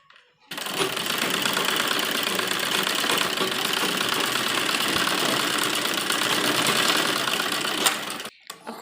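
Close, loud sewing machine running long basting stitches along the folded lining of a heavy-work suit, one continuous even whir of about eight seconds before it halts.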